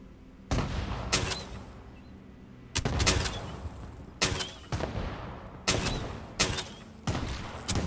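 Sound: heavy gunfire in the video game Fallout 76

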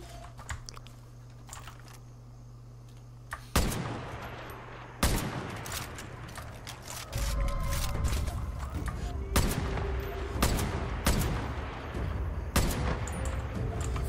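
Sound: sniper rifle gunfire in video game

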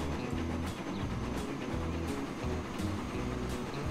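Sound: steam locomotive train running, from the video game Transport Fever

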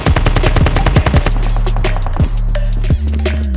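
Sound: gunfire in Call of Duty mobile video game

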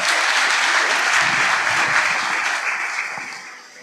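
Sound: audience applause

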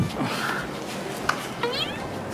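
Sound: cat meowing, a rooftop cat

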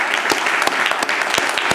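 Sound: audience applause at a ghazal CD launch

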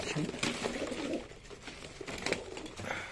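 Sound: tumbler pigeons cooing

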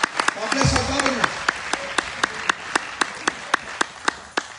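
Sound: church congregation applause

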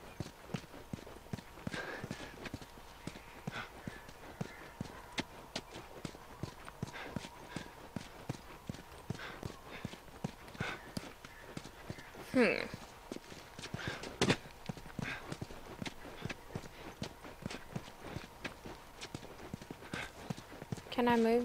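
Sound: horse hooves clip-clopping, from video game The Last of Us

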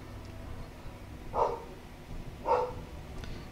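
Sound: dogs barking at a garbage truck

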